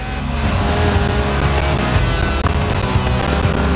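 Lotus Elise, a 90s mid-engined two-seat rear-wheel-drive roadster, driven in the Forza Horizon 4 racing game: a loud, close engine roar held continuously, with faint tire squeal and no talking.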